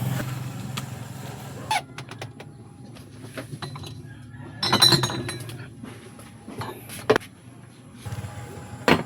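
Glass Coke bottles clink against each other as they are taken from a shop freezer, with several bright, sharp clinks spread across the stretch over a low background hum and traffic.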